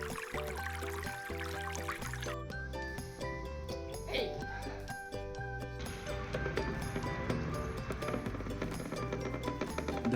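A traditional wooden mortar grinder crushes groundnuts for oil, giving a steady mechanical grinding and knocking with a rattling, ratchet-like texture throughout, fairly close and moderately loud, with no clear talk.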